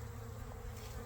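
Bees buzzing around an open feeder at a hive, a faint, steady droning hum from many insects, continuous and even throughout the short moment.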